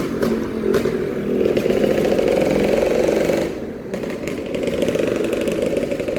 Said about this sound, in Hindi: पर ये बदमाश हर जगह है बाइक वाले।